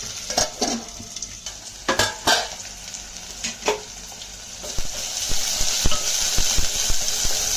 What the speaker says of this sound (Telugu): ఒక పచ్చిమిరపకాయ, కొద్ది కరివేపాకు, ఉల్లిపాయలు ముక్కలు వేసుకుని ఇలాగా నూనెలో వేసేయండి. వేసి బాగా కలపండి.